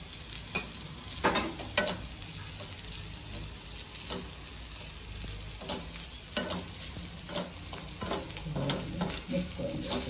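Onion and grated coconut roast in a pan while a spoon stirs them, producing a quiet, steady sizzle broken by intermittent scraping strokes, with no talking.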